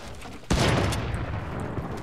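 Sustained minigun fire in the Fortnite video game: a loud, dense burst kicks in abruptly after a brief quiet moment and rattles on continuously to the end, close and heavy with booming low end.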